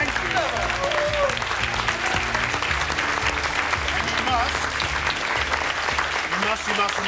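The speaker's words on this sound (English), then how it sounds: "Another round of applause for Heston" A MasterChef Australia studio audience gives sustained, dense applause that holds steady at full volume from start to finish.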